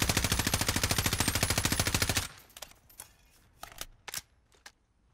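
An M4A1 fired on full auto in Call of Duty Warzone, a fast even burst of loud close shots for about two seconds, followed by quieter scattered clicks and a few sharp distant shots.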